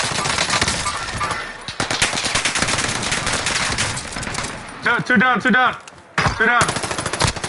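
Rapid video-game shooter gunfire in dense automatic bursts, loud and close, with a brief pause and a few sharper gunshots near the end; someone speaks briefly over the shooting.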